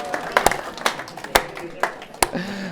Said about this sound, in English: Give yourselves a round of applause for trying.